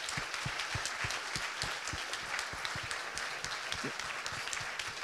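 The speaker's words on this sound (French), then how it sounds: "un grand bravo et un tonnerre d'applaudissements pour l'équipe organisatrice" Attendees at an innovation awards ceremony applaud the organizing team: a soft, distant-sounding spread of clapping with distinct individual claps audible in a quick, uneven rhythm throughout.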